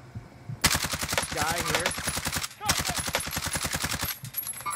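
Sustained automatic gunfire in a video game, loud rapid shots in a steady rhythm with one brief pause, while a voice talks briefly over the shooting.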